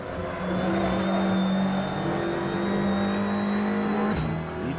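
An Audi TT Cup race car engine in a sim racing game at Road Atlanta drones at a steady pitch, shifting briefly and settling, loud and continuous with no talk.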